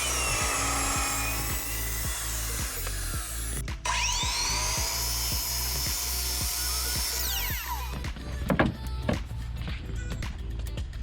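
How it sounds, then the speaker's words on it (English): A power drill bores holes through a Trex Transcend deck trim guide, a steady high motor whine running for several seconds with a short break, then grinding bursts near the end over a rhythmic low thumping in the background. "Anthony just drilled some holes in our Traxall guide"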